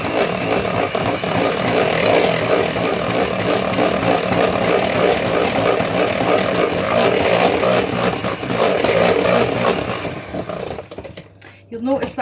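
Electric mixer running steadily on low speed through cupcake batter for lemon and poppy seed cupcakes, a loud continuous motor whir that cuts off near the end.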